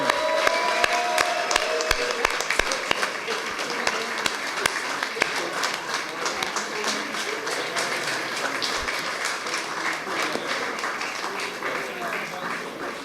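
A crowd applauds and cheers for staff at a live community event, with sharp, loud claps and shouts up front that settle into a steady, slightly softer wash of clapping that carries on to the end.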